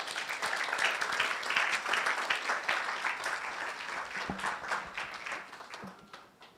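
Audience applause at a national science and maths quiz championship launch, dense clapping swelling early and then thinning and fading toward the end.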